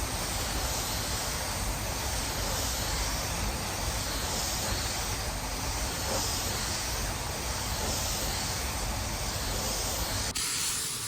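A spray paint gun fed by a large compressor hisses in a steady, dense blast of air and atomized paint for about ten seconds, close and unbroken, cutting off near the end.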